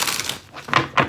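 Tarot cards being shuffled close by, a soft papery rustle followed by two sharper riffling bursts in quick succession.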